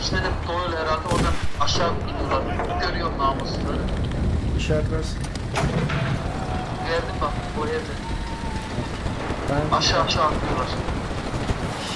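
Gunfire from a World War II era rifle in the shooter game Enlisted, with scattered shots and battle noise running throughout alongside steady talk from a player.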